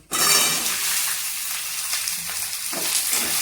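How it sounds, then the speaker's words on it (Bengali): Mixed vegetables frying in a kadai with salt and spices, a loud close sizzle starting abruptly and holding steady, with light stirring and utensil scrapes. "সব কিছু একসাথে ভাজা ভাজা করে নেবো, নুন মশলা সব দিয়ে"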